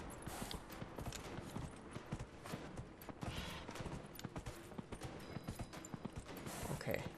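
Horse hooves clop steadily while riding in Dragon Age Inquisition, a quiet, busy rhythm of footfalls under game ambience with a voice talking over it.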